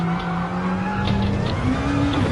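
A Gr2 race car in Gran Turismo brakes hard on cold tyres at Fuji, its engine note dropping steadily while the tyres scrub and squeal, loud and close throughout.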